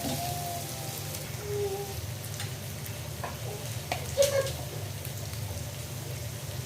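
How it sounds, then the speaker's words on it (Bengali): Four onions fry in a pan for a country-chicken skin bhuna, giving a steady, soft crackling sizzle throughout with a few faint clinks and stirs. "আমি এখানে 4টা পেঁয়াজ অ্যাড করছি বন্ধুরা, একটু হালকা লাল হবে।"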